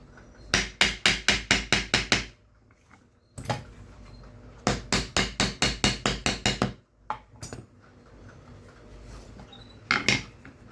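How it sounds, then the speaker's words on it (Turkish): Glued leather for a knife sheath is hammered flat, two quick runs of about eight sharp, evenly spaced blows each, then a few scattered taps and a final pair of strikes, loud and close. "Ve dövüyorum."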